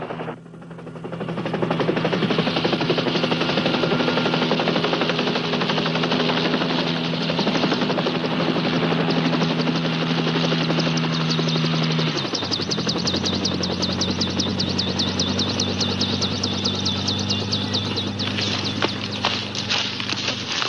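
A helicopter's steady rotor drone and engine roar fill the whole stretch, loud and close, its pitch shifting briefly partway through.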